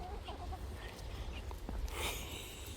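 Free-roaming chickens at a rural bed and breakfast on the Isle of Skye give soft, scattered clucks at close range, mixed with light outdoor noise and a brief burst of louder rustle.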